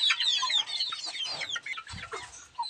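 Native brown chickens cluck and chatter close by in a busy, overlapping flock, with one brief low thump partway through.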